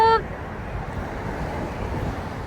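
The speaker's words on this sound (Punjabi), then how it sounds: "ਘੜੀ 'ਚ ਹਵਾ ਠੰਡੀ ਹੋ ਜਾਂਦੀ ਬਹੁਤ ਜਿਵੇਂ ਠੰਡੀ ਠੰਡੀ ਹਵਾ ਹੁੰਦੀ ਹੈ" Cold wind blows through a park, buffeting the microphone with a steady low, rumbling roar after a brief voice at the very start.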